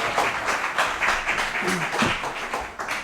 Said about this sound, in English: Big round of applause for Mark Shepard.